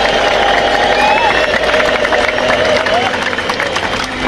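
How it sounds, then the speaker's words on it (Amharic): A church congregation erupts in loud, sustained ululation, clapping and cheering, a dense continuous crowd roar with shrill trilling voices riding on top throughout. "እስቲ እልልታ፣ ጭብጨባ፣ ሆታ።"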